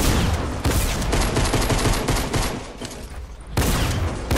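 Fortnite gunfire, a loud, nearly continuous barrage of rapid shots with brief gaps, close and harsh, broken by a short lull before another burst, no voices.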